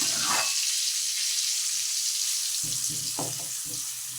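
Cumin seeds tempering in a pan of blended tomato gravy make a loud, steady hiss and crackle with no talk, joined by a few low bubbling pops and stirring knocks in the latter half.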